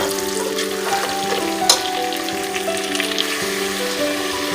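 Goat trotters fry with ginger and garlic in a pot, a loud continuous sizzle with scraping stirs and one sharp clatter near the middle, close and without speech.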